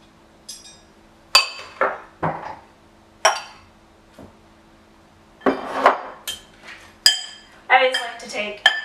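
Two knives cutting butter into dry ingredients in a bowl, giving irregular metallic clinks and scrapes against the dish, spaced out with pauses, some sharp and ringing, others dull, with a voice speaking at times.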